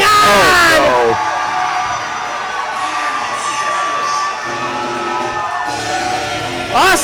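A loud arena crowd boos steadily through a wrestling show in the game Super Shogun Wrestling, forming a dense roar, with a voice speaking over it at the start and end.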